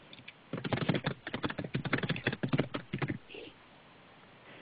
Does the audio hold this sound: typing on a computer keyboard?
yes